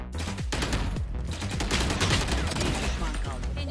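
Rapid bursts of gunfire from a Valorant match crack out in dense, repeated volleys and sharp single shots, loud and close, with a voice faintly under the shooting.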